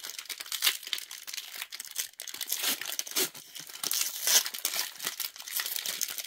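Blister packs of Lorcana trading cards being torn and crinkled open, a steady run of close plastic crackling and ripping with no talk.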